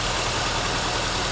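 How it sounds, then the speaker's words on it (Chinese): Rough, steady idle of a Mercedes W123 230E engine running on only two cylinders after a faulty fuel distributor repair, a close, continuous low rumble with an uneven throb. "因为目前是只有2缸在工作，所以说它的抖动当然是不平衡"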